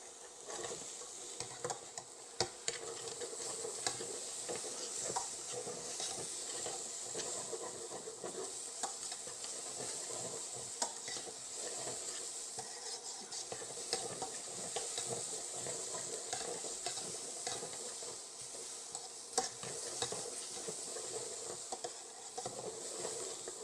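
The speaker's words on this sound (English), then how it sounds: "cook for 1 minute with the garlic in" Mushrooms and finely chopped garlic sauté in a pan with a soft, constant sizzle and a scattering of small stirring taps throughout, fairly quiet and with no speech.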